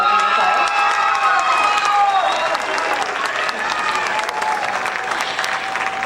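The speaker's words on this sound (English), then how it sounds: "Give them a round of applause." Audience at a high school winter band concert applauds the junior band members, loud continuous clapping mixed with cheers and a few shouts, with some talk beneath.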